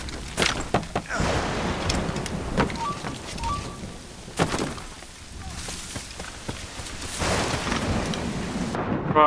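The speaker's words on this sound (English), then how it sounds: "The storm gets worse." Thunderstorm in the game Assassin's Creed Rogue Remastered, with steady rain under repeated rumbling thunder claps, a few loud sharp cracks rising and fading over the wash of rain.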